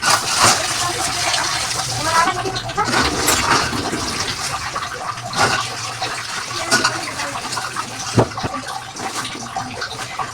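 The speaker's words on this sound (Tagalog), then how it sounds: "So, hugasan na natin." Running water splashes steadily while bitter gourd (ampalaya) is rinsed by hand, with a continuous rushing flow and intermittent splatters, and a voice speaking over it at times.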